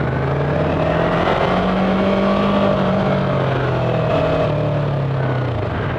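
A Yamaha YZF-R3 motorcycle engine revs steadily, its pitch rising and falling as the throttle is worked, loud and close with no speech.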